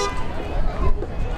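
A Border Services vehicle horn toots at an island airport event, short loud honks over crowd chatter and nearby voices.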